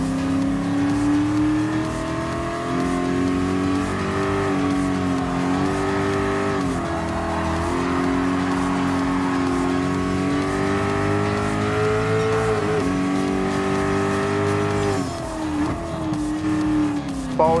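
Classic race cars including Ford GT40s racing in Gran Turismo Sport at a retro car festival event, a loud continuous engine howl rising and falling through gear changes, with occasional tire squeal and no talking.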